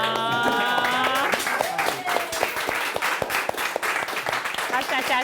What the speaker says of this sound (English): Bryan Cahall, give him a round of applause one more time.